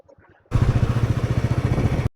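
A motorcycle engine starts at the beginning of a ride toward Spiti and settles into a loud, close, steady pulsing thrum. A faint voice is heard briefly before the engine cuts in.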